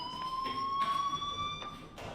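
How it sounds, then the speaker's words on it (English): A fire alarm rings in the video game Life is Strange, a steady high electronic tone held throughout at moderate level, with faint rhythmic pulses and background game ambience beneath. "do you hear that fire alarm? That means you should be outside."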